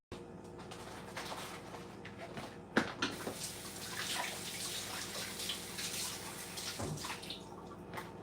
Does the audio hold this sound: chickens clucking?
no